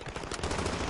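Rapid automatic gunfire in Modern Warfare 2019 beta on PSVR PS4 Pro, a dense, loud burst of overlapping shots filling the brief moment with no talk.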